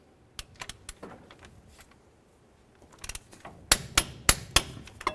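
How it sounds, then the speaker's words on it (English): Tool work on a 1999-2007 Chevy Silverado front CV axle, torquing bolts with a torque wrench: scattered metallic clicks and taps, ending in a series of sharp, louder ratcheting clicks close by. "Go ahead and torque these to 58 foot-pounds."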